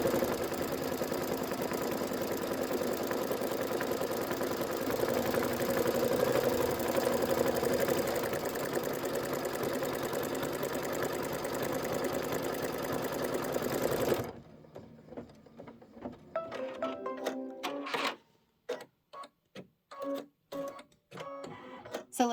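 Sewing machine stitching down appliqué on a candy corn quilt: a steady, loud mechanical whir runs continuously for about fourteen seconds, then stops, followed by scattered clicks and short thumps.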